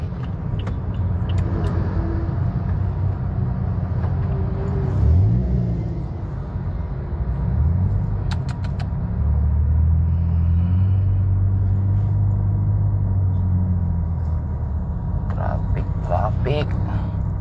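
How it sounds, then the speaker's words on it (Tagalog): A Toyota Vios creeps through heavy stop-and-go traffic in Cavite, its low engine rumble and road noise steady throughout, with a few faint higher tones and voices talking inside the cabin. "Bagong traffic kasi dito sa Cavite."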